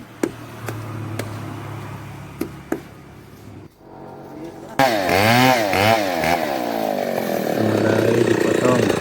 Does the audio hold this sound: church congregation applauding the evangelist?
no